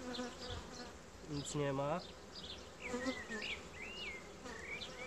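Buckfast honeybees hum in an open hive during an inspection as a steady close drone, with someone speaking briefly over the buzz.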